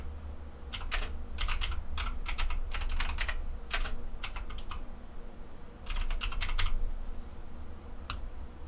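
Bursts of fast clicking on a computer keyboard, played in quick runs with short pauses between them, close and clear in a quiet room with no talking.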